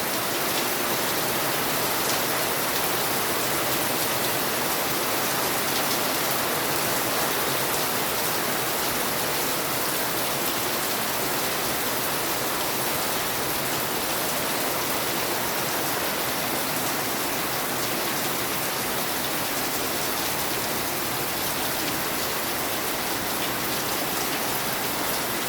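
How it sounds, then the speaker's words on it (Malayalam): Heavy rain pours down steadily in a loud, dense, unbroken hiss of drops on surfaces that stays even throughout, with no voices. "ഇവിടെ നല്ല തകർത്ത് പെയ്യുക."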